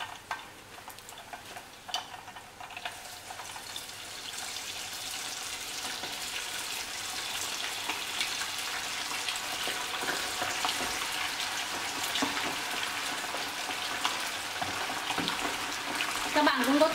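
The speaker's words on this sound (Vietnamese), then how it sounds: "Bây giờ mình sẽ cho tiếp cánh gà còn lại vào." Chicken wings frying in hot oil, a continuous close sizzle that swells louder toward the end as more wings go into the pan, with a voice speaking briefly.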